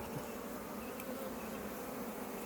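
Dense, steady buzzing of many honeybees at an open hive fills the air, a continuous hum without pauses, close and even in loudness.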